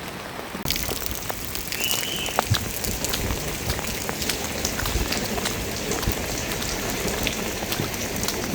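Steady rain falls on surfaces outdoors, a dense continuous hiss with scattered close drips and taps throughout, with no voices.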